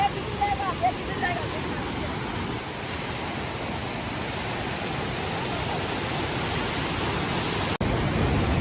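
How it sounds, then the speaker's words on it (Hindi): A waterfall near Badi Madar Lake in Udaipur roars continuously in a dense, steady wash of rushing water, close and loud, with faint voices in the background. "झरना देखो कितना प्यारा है"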